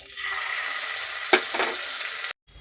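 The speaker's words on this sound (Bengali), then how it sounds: "ওই একই তেলে আমি দিয়ে দেবো জিরে ফোড়ন, বেটে রাখা লঙ্কা, জিরে, আদা, রসুন, পেঁয়াজ" Spices frying in oil with soybeans give a close, steady sizzle for about two seconds, broken by a sharp clack of a utensil and a short scrape before a sudden cutoff, with no talking.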